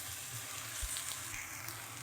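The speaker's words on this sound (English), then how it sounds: "So we stir it equally before adding water and salt" Jeera rice fries in a pan for prawn pulao, giving a steady, fairly quiet sizzle, with a soft stirring scrape or two mixed in.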